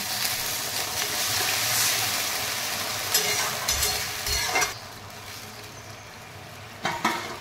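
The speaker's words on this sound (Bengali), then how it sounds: "এরপর আমি এর মধ্যে জল দিয়ে দেবো।" Fried potatoes in a pan for Bengali aloo posto give off a loud, steady sizzle with scraping stirs, a few sharp bursts near the middle and end as water meets the hot pan; no one speaks.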